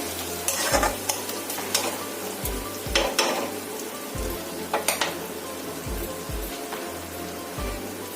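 Spine gourd curry fries in a pan with a constant sizzle, while a spatula scrapes and knocks against the metal in an irregular rhythm, close and clear.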